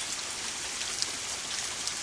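Steady rain falls in a continuous close hiss, with a few individual drops ticking sharply above the wash.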